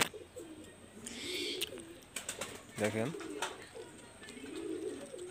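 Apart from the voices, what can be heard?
Pakistani high flyer pigeons cooing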